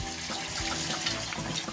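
Freshly distilled lambanog coconut liquor drips and trickles steadily from a still inside a rural property in Quezon. The faint, continuous liquid patter is heard alone, with no talking.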